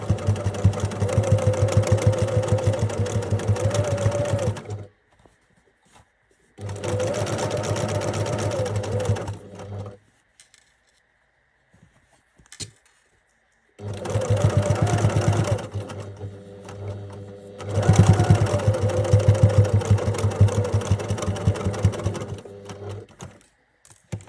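A sewing machine runs in four long bursts of rapid, even stitching across an embroidered fabric health-booklet cover, loud and close, with near-silent pauses between runs.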